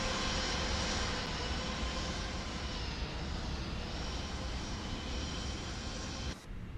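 A flight simulator game plays a loud, continuous aircraft engine drone with steady hum and rumble throughout, dropping slightly just before the end.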